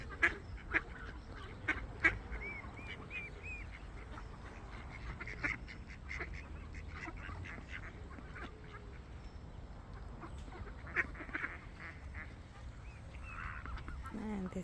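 A mother swan guarding her babies by a garden lake gives repeated honking, hissing calls at moderate distance, scattered in bursts through the clip over faint outdoor background noise.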